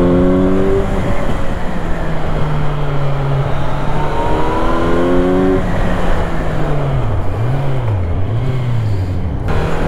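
A Kawasaki Z900 motorcycle engine runs steadily while being ridden, its tone rising and falling through loud, close gear changes and revs, with continuous wind and road noise and no talking.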